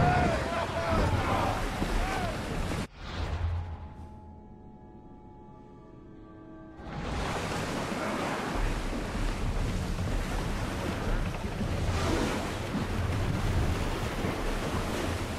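Sailing ship on open ocean in Assassin's Creed Odyssey, with steady surging waves, wind rush and hull noise; a brief lull with faint tonal music interrupts before the loud sea and wind return.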